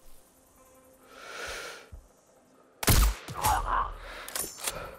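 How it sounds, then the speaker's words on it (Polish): A sharp, loud sniper rifle shot in the video game Sniper Ghost Warrior Contracts 2 cracks suddenly after a quiet stretch, followed by a rumbling echo and some brief rustling. "Idealny strzał."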